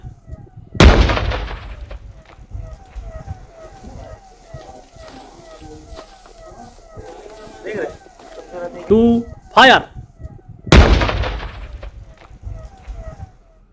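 Gunfire cracks out in two loud, close bursts roughly ten seconds apart, with people talking excitedly in between and along with the shots.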